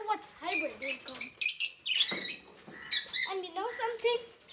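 Pet budgies and parrots chirp and tweet in a busy, close flurry of high, rapid calls with short squawks, continuing in bursts with only brief pauses.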